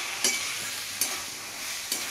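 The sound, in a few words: frying and stirring methi greens with eggplant and potato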